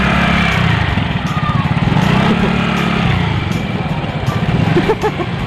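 A Yamaha Mio Gear automatic scooter is ridden by a beginner, its small engine buzzing and revving loudly nearby with fluctuating pitch, while a voice speaks briefly over it.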